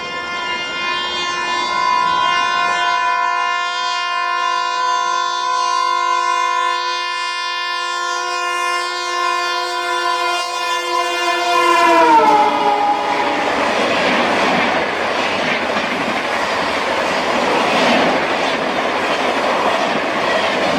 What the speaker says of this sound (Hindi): 12034 न्यू दिल्ली कानपुर शताब्दी एक्सप्रेस, जो कि फ्लैट 130 किलोमीटर की स्पीड से आ रही थी।